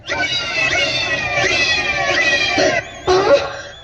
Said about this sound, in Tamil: நான் குடிக்க வேண்டிய பால பூனை குடிச்சுக்கிட்டு இருக்கு